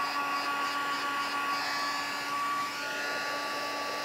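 A heat gun drying embossed cardstock, giving a steady, loud whooshing blow of air that holds unbroken throughout with a slight dip in level near the end.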